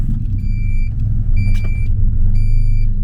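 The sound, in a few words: Honda Civic EF with JDM engine swap starting and running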